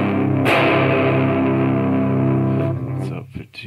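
A single electric guitar chord through a DOD Boneshaker distortion pedal turned up to 3 o'clock rings and sustains, heavier and grittier, before fading with a brief scrape at the end.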